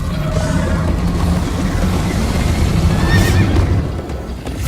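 A Minecraft horse whinnies and snorts over a steady rumble of galloping hooves in a video game, loud and close, with the pounding easing slightly near the end.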